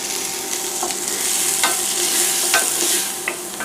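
Garlic, ginger and onions fry in a pan over medium-high heat, giving a steady close sizzle broken by a few sharp stirring scrapes.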